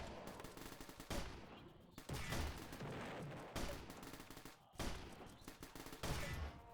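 Repeated heavy mortar or artillery blasts in the Christmas event of the video game Tower Battles, about four booming shots roughly a second apart with dense explosive noise rolling between them, no talking.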